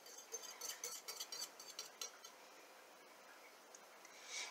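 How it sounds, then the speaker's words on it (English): A utensil scrapes and clinks against a bowl as microwaved egg and sausage breakfast burrito filling is stirred, with a quick run of close, light taps that trail off into quiet. "I'm just going to stir it a tad bit more"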